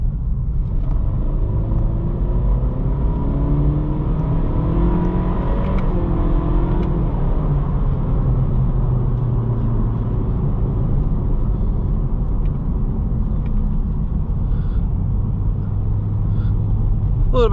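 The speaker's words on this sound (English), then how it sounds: "A little bit of turbo lag as the power builds." Acura Integra A-Spec turbo engine with CVT accelerating on back roads, heard from inside the cabin as a loud steady rumble whose pitch rises and falls through simulated gear changes.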